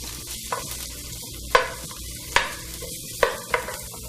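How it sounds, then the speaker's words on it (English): Two large sliced onions sauteing in a pan for a Moroccan dish, a soft continuous sizzle broken by several sharp scraping stirs of a utensil against the pan. "a couple of large sliced onions. I'm going to give that a saute around the pan"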